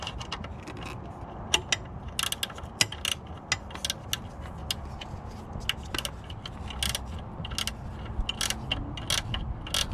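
A gear wrench ratchets a bolt during installation of step bars on a 2019 Nissan Titan XD pickup, a steady run of sharp close clicks from the pawl over a low background rumble.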